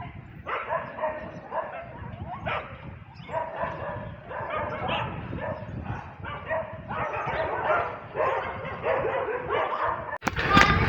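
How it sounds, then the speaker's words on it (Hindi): Several household dogs bark and yelp while fighting, a dense, continuous close-range scuffle of barks, growls and whimpers, with a sharp louder burst at the end and some voices faintly beneath. "हमारे कुत्ते जो हैं वो भी लड़ाई कर रहे हैं।"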